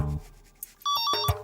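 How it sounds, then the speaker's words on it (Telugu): A telephone rings in a family home with a series of bright electronic ring tones that begin partway through, loud and close, after a quiet start with a faint sound. "ఏమంటే ఫోన్ ఎత్తండి, ఖాళీగానే ఉన్నారు కదా."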